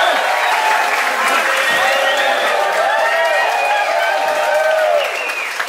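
A crowd of about 600 at a comedy show in Paso Robles claps and cheers steadily and loudly for several seconds, a dense wash of applause with scattered whoops over it.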